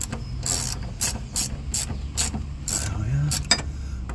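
Ratchet clicking as rear axle bolts on a car are snugged up one at a time, bursts of sharp ratcheting strokes repeating close by in a garage with low background hum.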